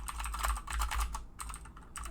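Rapid typing on a computer keyboard while writing JavaScript code, a steady run of close, crisp key clicks in bursts with a brief pause midway, no talking.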